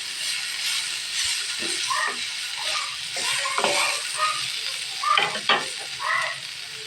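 Dried fish for a bharta with yardlong beans fries in a pan, a close steady sizzle with several sharp stirring scrapes and clatters, louder toward the end, and no talking.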